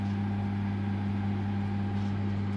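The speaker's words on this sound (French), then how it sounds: "Peut-être que tu utilises le micro-ondes plus longtemps." A microwave oven running in an apartment kitchen, a steady low electrical hum with a constant drone and no variation throughout.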